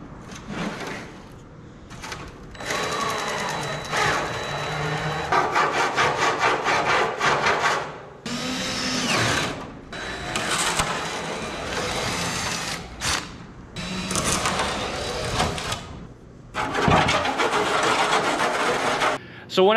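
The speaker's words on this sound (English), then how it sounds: "So we're going to drill that now" A drill bores into a carbon fiber panel in repeated bursts, a rough grinding whir that starts and stops several times, fairly close and loud.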